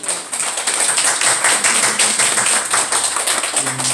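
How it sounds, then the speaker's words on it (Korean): A church congregation in a Korean worship service gives a big round of applause welcoming four missionaries, a dense, steady clatter of many hands filling the room. "먼저 우리 선교사님 네 분 잠깐 자리에서 일어나시면 큰 박수로 우리 환영하겠습니다"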